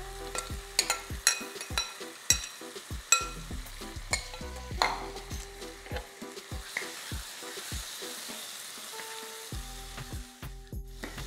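Marinated chicken hits hot ghee in a nonstick pan for a Mangalore chicken ghee roast, giving a steady close sizzle broken by repeated sharp clatters of stirring and scraping, with no voices.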